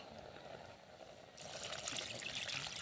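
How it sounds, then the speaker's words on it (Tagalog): Water pours into a cooking pot for soup at an outdoor spot by a dam, a steady trickling splash that grows louder and brighter partway through, close by. "lagyan na natin ang tubig."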